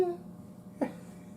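A cat gives faint, short meows: a quick tonal cry at the start and another brief one a moment later, over a quiet indoor background.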